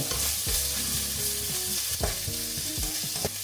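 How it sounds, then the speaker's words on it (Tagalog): Onions and garlic fry in a small amount of oil, with a steady close sizzle and intermittent scraping strokes of a utensil stirring the pan. "Kasi magpa-fry na tayo ng ating onions. Sabay ko na yung garlic."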